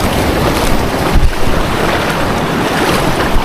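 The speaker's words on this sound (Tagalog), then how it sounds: "Grabe yung alon dito. Lakas." Strong surf pounds a shoreline during stormy weather, a loud, dense roar of breaking waves mixed with heavy wind buffeting the microphone, steady throughout with a brief surge.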